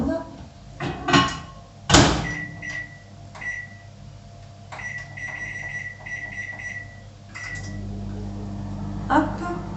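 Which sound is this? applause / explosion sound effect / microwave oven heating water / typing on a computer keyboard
microwave oven heating water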